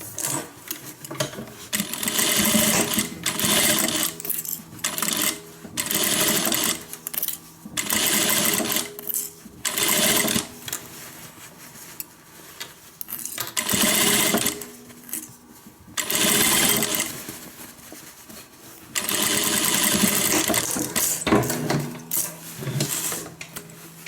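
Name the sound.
sewing machine stitching a guitar handbag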